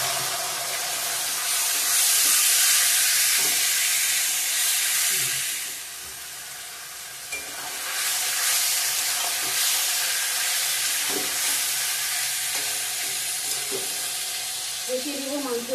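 Chicken pieces frying in oil with fried ginger and whole-spice tempering, a broad continuous sizzle and hiss with occasional stirring knocks, swelling and easing over the stretch.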